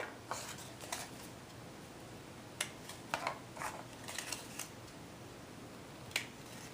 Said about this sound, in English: You're going to snip off the end off of each one.